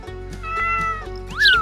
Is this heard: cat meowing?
yes